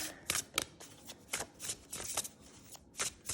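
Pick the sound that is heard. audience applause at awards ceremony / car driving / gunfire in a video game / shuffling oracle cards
shuffling oracle cards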